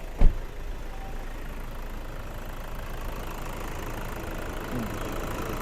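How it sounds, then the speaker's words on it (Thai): A brief cranking thump starts the 2.5-litre engine of a 2013 Toyota Fortuner automatic SUV, which then idles steadily with a low, even rumble close by. "เราสตาร์ทเครื่องดูนะครับ"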